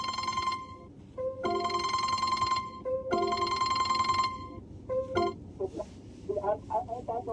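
A telephone rings with an incoming call in a repeating electronic bell pattern, two long bursts and then shorter ones, fairly loud over background noise, followed by scattered clucking-like sounds.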